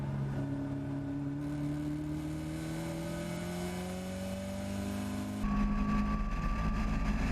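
Caterham race car engine on track at Oulton Park, heard close and loud from on board as its whine climbs steadily in pitch, then drops and surges harder on a gear change near the end, with no voices.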